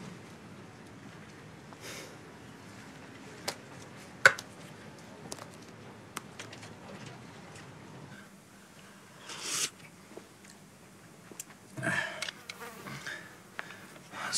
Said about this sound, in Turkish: bu sinek illeti fena